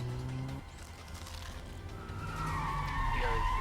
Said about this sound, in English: Right, so we're just starting engine 2. Let that fire up here.